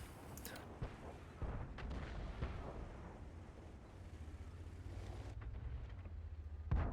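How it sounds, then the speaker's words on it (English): Video-game tank gun fire from a VK 28.01 105 lobbing an HE shell: a few faint, deep booms and thumps over a low engine rumble, with the gun report fairly distant. "I did hit a penning shot on the side of the Firefly, and with the new HE mechanics, I hit the tracks of the Firefly"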